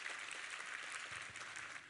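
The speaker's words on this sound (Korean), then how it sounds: "우리 하나님께 감사와 영광의 박수를 올려드리겠습니다." Congregation applause during a Korean church sermon, a soft, even wash of many hands clapping at a distance, steady and unbroken throughout.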